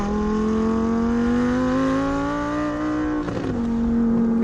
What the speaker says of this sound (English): And listen to it going down into third, second, first. It crackles, it pops.